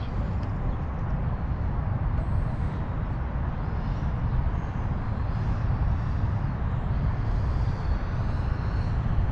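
A radio-controlled model jet comes in to land, a constant broadband engine roar and whoosh holding steady, no talk.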